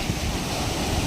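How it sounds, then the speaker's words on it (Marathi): Sea waves breaking and washing over sand at Chivla Beach in Malvan, a steady broadband roar with wind buffeting the microphone, no voices. "हा ते नंतर आपटतं पाण्यामध्ये"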